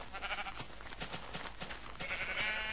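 Blocky sheep bleats from Minecraft, several overlapping calls repeating at close range over steady game background noise, with no talking.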